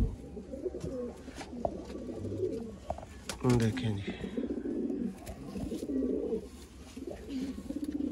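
Loft pigeons of the Sialkoti flying breed coo in low, rolling phrases throughout, close by, while someone talks over them with a brief flutter midway.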